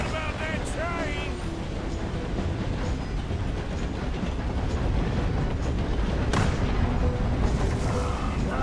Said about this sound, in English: Too bad about that train.